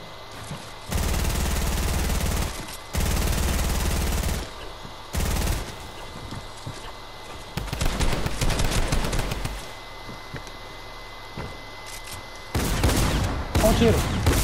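Bursts of gunfire from a video game, several loud sustained volleys separated by short pauses and a few sharper shots near the end, with no talk over them.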